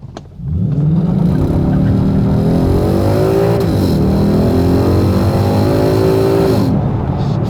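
A video game car launches from a standing start on a 0-60 run, its engine rising steadily in pitch as it accelerates hard, loud and continuous without any talk.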